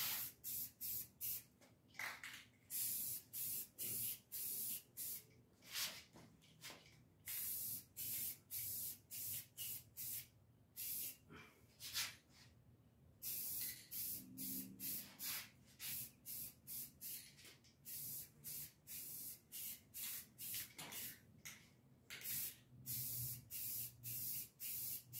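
Spray paint is applied in a light coat to the edges of an electric guitar, heard as a long series of short, close, loud hissing bursts separated by brief pauses.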